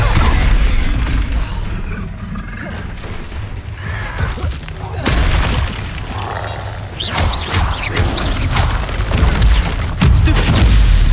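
Blasting Confringo spell effects in the game Hogwarts Legacy during a wizard duel, loud booming bursts and crashes recurring through a dense, busy combat mix.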